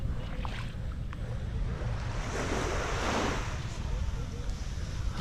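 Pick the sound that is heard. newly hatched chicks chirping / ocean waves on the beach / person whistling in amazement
ocean waves on the beach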